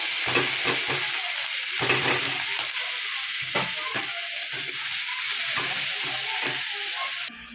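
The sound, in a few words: bottle gourd peel and onion frying in oil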